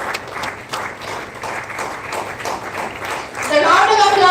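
Audience applause at the inauguration ceremony of a national-level oratory contest, a steady patter of many hands that grows louder near the end, with voices mixed in.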